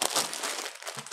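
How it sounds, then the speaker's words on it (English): A plastic bag holding skeins of yarn crinkles and rustles in quick bursts close by as the yarn is pulled out, with no talk over it. "I'm taking them out of the plastic bag"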